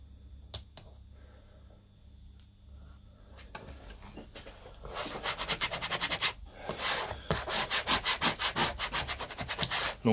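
Layered vinyl film is rubbed firmly onto a surface with close, dry scraping strokes. They start sparse and quiet, then build into a fast, steady back-and-forth rasp.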